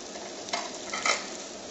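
Sliced king oyster mushrooms go into a pan of golden fried tofu, giving a steady sizzle of hot oil with a couple of brief louder bursts as the pieces are stirred; no voices.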